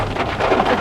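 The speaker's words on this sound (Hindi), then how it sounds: "यहाँ पे बिल्कुल ऊपर से पानी टपक रहा है" Water drips from overhanging rocks onto a vehicle windshield on Sach Pass in India, a dense patter of drops mixed with rushing wet noise, loud and close.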